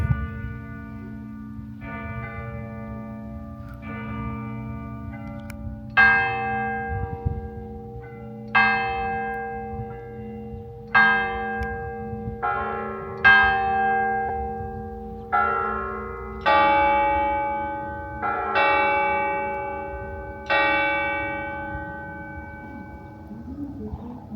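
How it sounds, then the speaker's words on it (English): A church tower clock in northern Germany chimes at 3 PM: a run of resonant bell strikes, roughly a dozen evenly spaced tones ringing out with long decays over a steady low background hum, with no talking. "it still chimes, and it should be doing that shortly at 3 PM"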